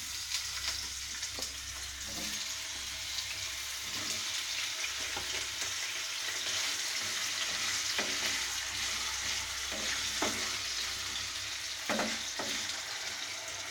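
Potatoes fry in hot oil with a steady close sizzle and crackle, accompanied by occasional stirring scrapes and taps, all at a moderate level with no voices.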